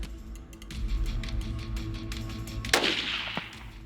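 A single sharp, loud shot from a 6.8 Western hunting rifle rings out near the end of an outdoor mule deer hunt in Colorado, with a short echoing tail over low wind and ambient rumble.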